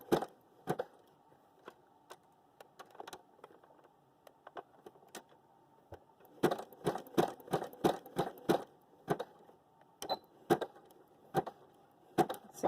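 A sewing machine stitches fabric straps in short bursts, quiet rattling runs separated by pauses, with a longer steady stretch of stitching near the end.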